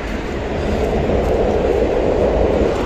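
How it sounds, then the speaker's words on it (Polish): A PKP Intercity train passes at a Warsaw station platform, a steady loud rumble of wheels and carriages sustained throughout the full stretch with no talking. "Ciuchcia jedzie. Intercity."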